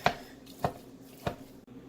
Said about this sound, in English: what I'm going to be doing here is just chopping it up